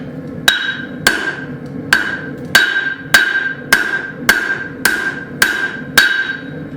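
A hammer strikes hot steel on an anvil while a split cross hook is forged, ten sharp ringing blows falling in an even, steady rhythm, each followed by a brief metallic ring.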